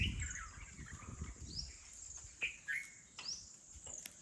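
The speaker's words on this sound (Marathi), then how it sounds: "पक्ष्यांचा आवाज येतोय" Sparrows and other birds chirp in quiet surroundings near a temple, with brief high tweets scattered across a faint background and a low rustle early on.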